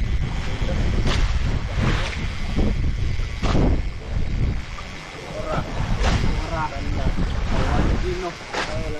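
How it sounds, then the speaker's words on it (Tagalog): Big waves and strong wind at sea around an island, a continuous heavy rush of wind with surging water swells rising and falling, and voices talking faintly beneath. "Malaking alon mga bay."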